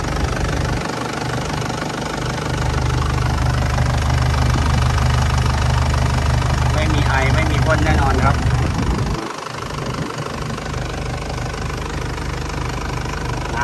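An Isuzu Dragon Eye pickup's 3.0 engine runs steadily at idle, a continuous close mechanical drone with a slight knock, swelling a little partway through and briefly dipping before settling again.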